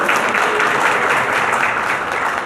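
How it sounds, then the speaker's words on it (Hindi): Audience applauding at a JDU party office gathering, a dense, steady wash of many hands clapping that holds loud and even from start to finish with no voices over it. "तो इसलिए जरा ताली तो बजाइए।"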